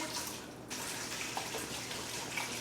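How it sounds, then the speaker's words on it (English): Distilled water is poured in a steady, continuous splashing stream into a container for a hair-care cleanser, close and moderately loud, with no voices. "You really do need a lot of water, so we're just going to keep pouring."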